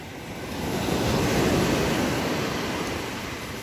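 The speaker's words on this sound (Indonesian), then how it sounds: "ombak mengalun ya." Ocean surf rushes in a broad, steady wash onto a sandy, reef-strewn beach, swelling and then easing off as a wave rolls through, with no voices.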